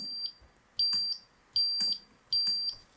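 An electronic buzzer module on a Pinoo coding board beeps in a steady repeating pattern, four loud high-pitched tones roughly evenly spaced, close and clear against quiet.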